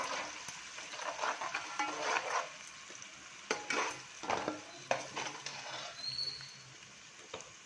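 Chopped onion and ground coconut paste are stirred in a hot pan for a chicken gravy, giving a soft sizzle with scattered scraping and tapping strokes of a spoon, fairly faint and close, with no talk.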